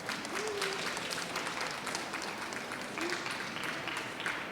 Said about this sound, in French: Vous pouvez applaudir Yvan